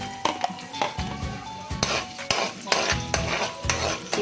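Garlic being sautéed in hot oil in a pan for a tofu and pork dish, with close sizzling under repeated scraping and stirring of a utensil against the pan, plus metallic clinks.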